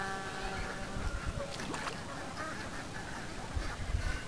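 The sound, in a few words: ducks quacking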